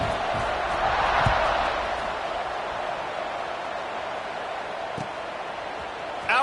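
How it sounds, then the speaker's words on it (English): Broad crowd roar in a college football stadium during an Indiana at Maryland game, a steady distant wash of many voices with faint thumps, holding level throughout. "this crowd is buzzing after that last score"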